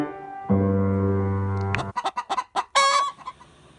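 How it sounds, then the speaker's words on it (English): A rooster lets out a long drawn crow, followed by a quick series of chicken clucks and a final squawk, close and loud. "I raise a flock of chickens whose eggs are good as gold"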